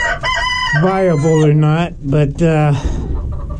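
Chickens in a coop cluck and a rooster crows loudly close by, the calls rising and falling over a few seconds while a person speaks over them.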